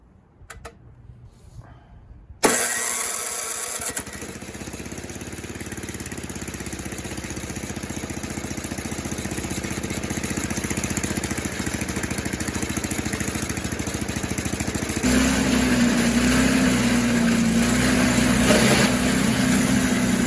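A refuelled Toro snowblower engine fires up after a few faint clicks and then runs at a steady idle. The drone is loud and continuous, with a rising whine toward the end and no voices.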